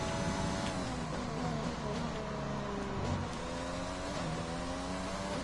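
A Honda-powered F1 car in the F1 2020 racing game, a steady loud engine whine with shifting pitch as it runs along the runoff area, no talking.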